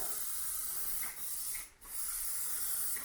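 GT85 lubricant sprayed from an aerosol can onto cables: a steady close hiss running in three bursts separated by two short gaps.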